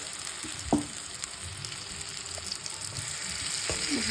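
Fried okra stirred into a cooked-down spice masala in a pan, a steady oily sizzle with a few soft scraping clicks of a spoon against the pan.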